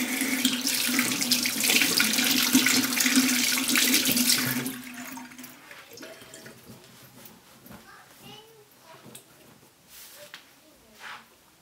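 Hot water runs loudly from a tap over soapy fingers during an at-home manicure, washing dead skin from around the nails; the steady gush stops about halfway, leaving quiet handling noises and faint speech.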